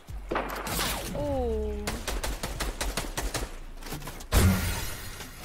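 Gunfire in the video game Fortnite crackles in a rapid burst of sharp shots, loud and close, with a brief tonal game effect before it and a heavier impact near the end.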